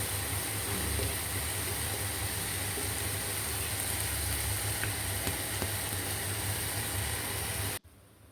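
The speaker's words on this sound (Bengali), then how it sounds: "কিছুক্ষণ পরপর নেড়ে চেড়ে দিচ্ছি।" Sour leaf (tok pata) bhorta cooks in a pan while it is stirred, giving a steady, close sizzling hiss with faint scraping that runs unbroken, then cuts off abruptly near the end.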